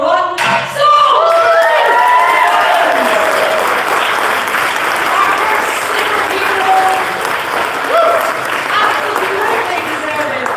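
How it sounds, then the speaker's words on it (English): An auction audience at the Southampton International Boat Show applauds after the first lot sells, a loud, sustained burst of clapping filling the room with a few shouts and whistles near the start. "Absolutely deserving of that round of applause"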